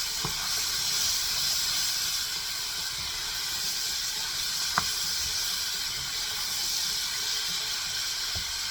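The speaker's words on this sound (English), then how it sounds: "Now I'm gonna put in my peppers. And continue with the sauteing." Peppers sauteing over high heat in a large pan for Hungarian lecsó, giving a steady broadband sizzle and hiss with a few sharp pops, close and continuous with no talking.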